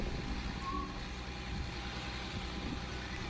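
A truck pulling double trailers backs up, its reversing alarm beeping faintly over a constant low diesel rumble, no speech.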